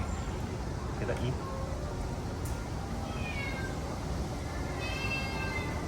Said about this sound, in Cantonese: 咁我哋見到有隻貓貓喎，